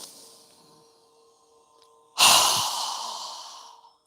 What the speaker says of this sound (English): exhale with a strong breath through our mouth as we lower our hands down